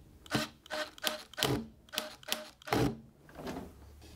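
A first screw is driven gingerly into a table frame built from recycled materials, making a close series of about eight regular, sharp creaking clicks at a steady rhythm with no talk.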